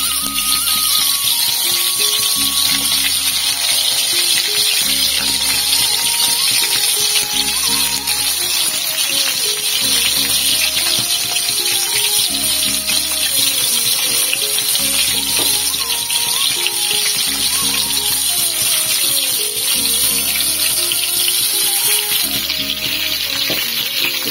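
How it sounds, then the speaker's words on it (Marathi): Stuffed brinjals frying in oil give a loud, steady sizzle that holds for the whole stretch, close and continuous with no speech, while a repeating musical backing plays underneath. "वांगी सोडायची आहे. आणि त्यामध्ये भाजून घ्यायची तेलामध्ये."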